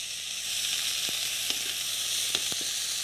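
Fennel, urad lentils, onions, garlic and ginger sizzling in a hot oiled pan, a constant bright hiss with occasional faint clicks and taps of stirring.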